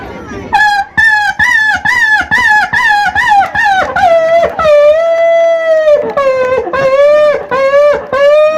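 At an SSB battalion public event, a man vocally imitates a dog, first with a rapid run of sharp, yelping barks, then a sustained howl and more wavering howls, loud and close.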